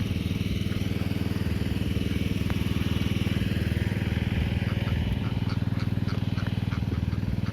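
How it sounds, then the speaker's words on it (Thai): A Honda engine drives a water pump for an irrigation system, running steadily with a dense, even putter that holds loud and close for the whole stretch, with no talk over it. "ระบบน้ำใช้เครื่องฮอนด้าเนี่ย ปั๊มขึ้นไป นู่น ยาวไปด้านนู้น"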